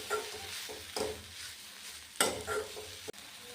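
Grated coconut lightly frying in a pan for a curry, a quiet sizzle broken by a few scraping stirs of a spoon.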